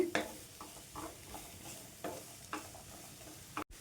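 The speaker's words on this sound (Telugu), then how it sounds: "ఈ సొరకాయ ముక్కలను అయితే వేయించుకుంటానండి." Bottle gourd pieces cooking in a pan for chutney, with a soft, low sizzle under a series of close spatula scrapes and stirs at irregular intervals.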